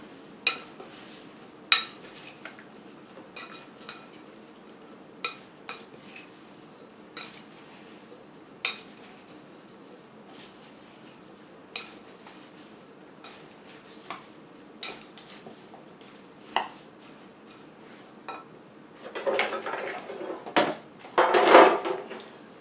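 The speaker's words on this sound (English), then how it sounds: "Get you a nice spoon or a spatula and mix it all around." Roasted vegetables being stirred with a spoon or spatula, giving sparse scattered clinks and scrapes against the dish spread across a long stretch, then a denser, louder scraping burst near the end.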